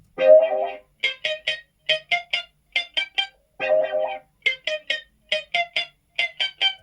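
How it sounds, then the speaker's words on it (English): Electric guitar run through a flanger pedal plays repeated bursts of strummed chords and short rhythmic stabs, the sweeping effect sitting faintly in the background, with no talking. "You can hear it just in the background there. That's flanger."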